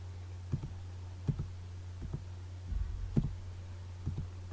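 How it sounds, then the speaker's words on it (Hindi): Arrow keys on a computer keyboard are pressed one at a time, giving faint, sparse clicks roughly a second apart, some doubled, over a low steady electrical hum. "कीबोर्ड से आप एरो की मदद से आप डाउन की तरफ जाते जाओ"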